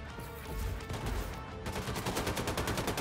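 Gunfire in the video game Wolfenstein 2: The New Colossus during a fight with a Nazi robot: a dense, loud wash of shooting that turns into rapid, evenly spaced automatic bursts, with no voices.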